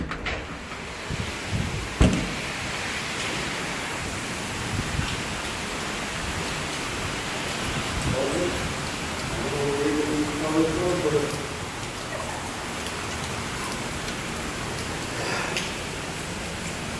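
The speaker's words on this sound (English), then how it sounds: "it started raining very bad" Steady, dense hiss of heavy rain pouring down outdoors during car repair work on a Mustang 5.0, with a brief knock early on and faint voices murmuring underneath.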